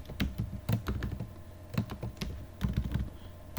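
Quick, irregular bursts of keystrokes on a computer keyboard, close and clear, come from someone typing notes during a Python lesson.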